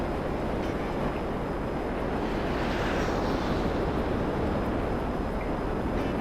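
A P-996 Lazer jet in the GTA video game roars at full throttle during a steep climb, giving a loud, steady, broadband rush with no breaks and no talk.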